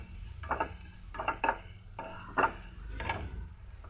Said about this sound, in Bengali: আর একটু ভাজা ভাজা হোক।